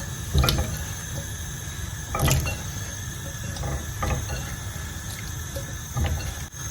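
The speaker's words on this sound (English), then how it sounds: "I'll go ahead and add water to the pan." Water runs and splashes into a metal cooking pan of potatoes in short bursts, with clinks and clatter of kitchen handling between pours, close by.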